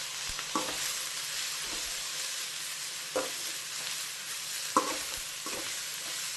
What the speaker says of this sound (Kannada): ಇದು ಕೂಡ ಎಣ್ಣೆಯಲ್ಲಿ ಫ್ರೈ ಆದರೆ ಚೆನ್ನಾಗಿರ್ತದೆ.